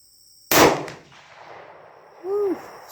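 A single sharp, loud report from a Sako Vixen L46 rifle chambered in .222 Remington, fired at a rock outdoors, with a short echoing tail that fades into quiet and then a brief tonal whine near the end.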